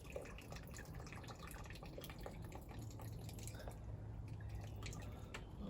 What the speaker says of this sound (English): take this out of the water, let it drain.